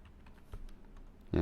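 Several quiet key taps on a computer keyboard while a caption is entered in an Excel VBA form, cut off at the end by a person starting to speak.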